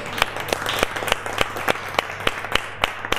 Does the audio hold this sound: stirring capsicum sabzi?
no